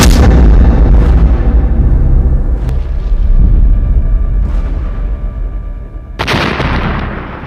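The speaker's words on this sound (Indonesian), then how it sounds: "tembakan ketiga HRMS Everston tepat mengenai Anjungan RI Macan Tutul yang mengakibatkan ledakan hebat" An artillery shell strikes a warship's bridge in a huge explosion, a loud close blast that rolls into a long decaying rumble, followed by another sharp burst near the end.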